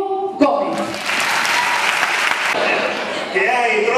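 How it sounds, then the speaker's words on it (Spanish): An audience claps loudly for a performer at a live show, the applause swelling into a thick sustained roar and tapering off, with a voice speaking briefly at the start and again as it fades. "Voy a pedir un fuerte, fuerte, fuerte, fuerte aplauso para el gran artista que lo es, Diego Gómez."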